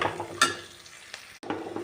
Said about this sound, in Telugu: 1/2 స్పూన్ పసుపు వేసి ఇలా తిప్పుకుందాం.